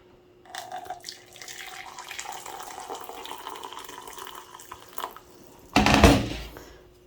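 Heated water is poured into a glass for coffee, making a soft, steady trickling stream for several seconds. A brief louder splash follows near the end.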